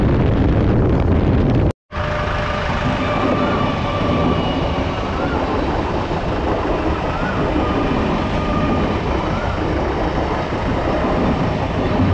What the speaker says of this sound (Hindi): ट्रेन जा रहा है भाई, देख सकते हैं लोकल ट्रेन वेस्ट बंगाल